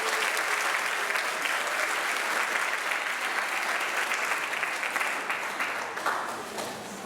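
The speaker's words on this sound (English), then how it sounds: "Will you please join me in giving the cross-country team a round of applause?" An audience at a school athletic awards night applauds the cross-country team, a loud, sustained wash of many hands clapping that fills the whole stretch and tapers slightly toward the end.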